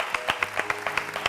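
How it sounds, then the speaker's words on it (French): A small audience applauds a national powerlifting team in slow, evenly spaced claps, soft and fairly close, repeating about every fifth of a second. "merci d'applaudir le travail qui est abattu"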